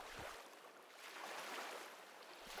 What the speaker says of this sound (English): The sound of the waves fills the space around you, but never overwhelms it.